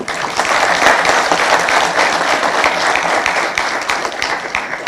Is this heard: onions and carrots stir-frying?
no